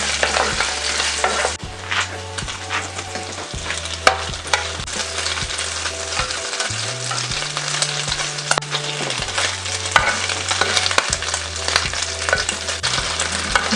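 Beef intestines frying in a pan for papaitan, a loud, continuous close sizzle with crackling and occasional spatula knocks, under a low steady hum that shifts in pitch.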